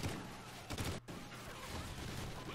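Minigun fire in Call of Duty: Ghosts, a dense, rapid rattle of shots that briefly cuts out and then resumes, loud and continuous against the game's background noise.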